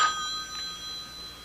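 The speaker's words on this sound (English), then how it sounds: "The phone." A telephone rings in a radio drama, giving a bright, tonal ring that sounds clearly at the start and briefly again about half a second later, then fades into a quiet room tone.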